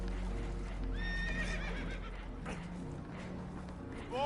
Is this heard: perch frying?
no